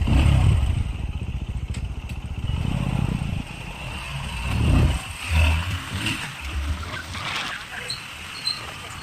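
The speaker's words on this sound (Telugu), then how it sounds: "ఇప్పుడు బైక్ ఒక పర్ఫార్మెన్స్ రైడ్ ఒక మీకు చూపిస్తాను ఎట్లుంటుందో." A Bajaj NS125 motorcycle revs and pulls away on a performance ride, its engine rising and falling in repeated bursts, loud and close at first, then easing with wind and road noise, with voices mixed in.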